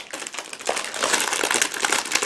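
Plastic bag from a Miniart 1/35 BZ-38 refueller model kit torn open by hand, a close, continuous crinkling and crackling rustle of thin plastic lasting a couple of seconds with no talk.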